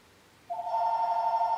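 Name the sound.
telephone ringing in music shop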